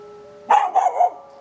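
A dog gives three quick, loud barks in close succession, sharp and near, with no talk over them.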